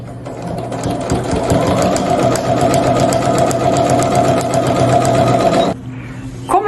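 A sewing machine stitches straight through a pre-printed fabric pouch and its lining in one loud, steady run of rapid needle clatter for nearly six seconds, then stops with a quieter hum.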